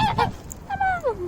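A goose at a lake gives a few loud, close honks, a quick pair followed by a longer drawn-out call.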